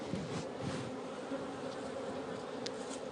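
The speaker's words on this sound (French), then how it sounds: "Sur ces cadres, les abeilles fabriquent des alvéoles en cire, où elles stockent le précieux nectar." Honey bees in a beehive, among wax comb frames where nectar is stored, make a steady, dense buzzing drone that stays even and fairly close throughout, with no voices.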